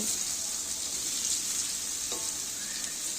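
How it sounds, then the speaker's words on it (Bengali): Eggplant slices fry in hot oil in a pan with a steady, close sizzle, joined by a brief clink or stir partway through; no one speaks. "দেখছেন বেগুনগুলোকেও ভেজে নিচ্ছি"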